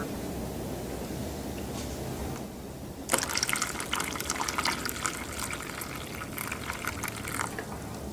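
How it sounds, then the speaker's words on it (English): Water emptied out of a lab container while drying nanomaterial: a steady gushing, splashing pour that grows brighter and louder partway through, close by and continuous with no voices. "We have to empty the water."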